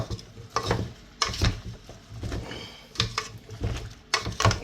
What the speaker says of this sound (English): We're going to stir this up. We want them all to get coated a little bit.